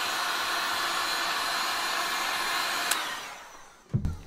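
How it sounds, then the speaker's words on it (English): A heat gun blows a steady, loud airy roar while melting wax polish off leather monk-strap shoes, then cuts off near the end, leaving a few brief handling knocks and rustles. "Doesn't take too long once the heat gun is warmed up."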